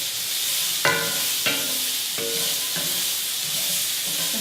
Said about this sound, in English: Give those green beans another stir.